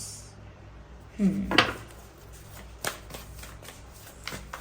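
Tarot cards being shuffled by hand: a short burst of riffling and flicking around the middle, then a few faint taps of cards set down, over a quiet room with no talk.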